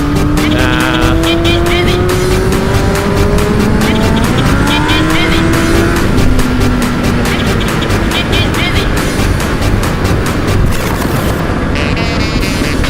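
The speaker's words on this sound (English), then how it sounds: "That was in 6th gear that I pulled that accelerator and I was launching." A motorbike pulls hard in sixth gear, its engine whine climbing in pitch under loud, steady wind roar for most of the stretch, up close and without a break.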